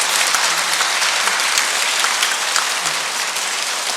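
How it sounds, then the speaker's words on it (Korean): A congregation at a parish retreat claps for a priest after his lecture, the applause dense and continuous at a steady level throughout. "좋은 말씀 해주신 신부님께 감사의 박수 드립시다"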